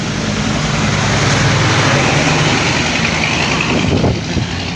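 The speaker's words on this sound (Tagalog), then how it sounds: "Ang ingay ng truck." Loud, steady roar of a truck passing close by on a road beside a fishing spot in Tacasan, Minalin, Pampanga, a broadband rumble with a slight rise near the end and no pause.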